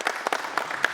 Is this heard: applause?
yes